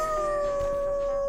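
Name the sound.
dog howling in the video game Flipping Death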